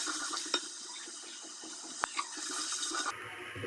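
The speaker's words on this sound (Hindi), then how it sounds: "अब मैं दही डाल रही हूँ। इसकी दही को अच्छे से भूनना है।" Yogurt goes into hot frying masala for a desi beef chana dal gosht, giving a steady soft wet hiss with a few faint utensil clinks. No one speaks.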